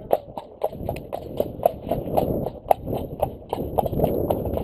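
Horse hooves clip-clop in a steady walking rhythm on firm ground during foundation groundwork training, close and distinct, with faint background voices.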